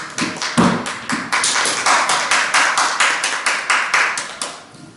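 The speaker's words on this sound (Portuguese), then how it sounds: "Vamos aplaudir o Senhor em nome de Jesus" A church congregation applauds together in steady, rhythmic unison, with loud, close hand claps repeating at an even pace for several seconds and no voices over them.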